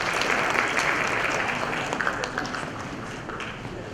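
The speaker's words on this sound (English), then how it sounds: "Let's welcome her with a huge round of applause." An audience at a teen awards event applauds to welcome a chief guest onto the stage, a dense, steady wash of clapping from many hands that fades slightly toward the end.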